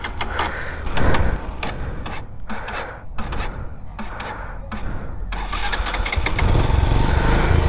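An 18-year-old Bajaj Pulsar 150 motorcycle cranks through several short, sputtering start attempts before catching and settling into a steady, rising engine note, all close up.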